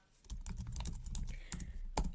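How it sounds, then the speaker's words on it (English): Quiet, steady typing on a computer keyboard with irregular key clicks and a few sharper taps, close up with no voice over it. "just typing in the name"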